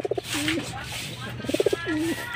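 Breeder pigeon at a racing pigeon loft cooing close by, two rounds of soft rhythmic pulses each ending in a drawn-out coo, with a low background hum.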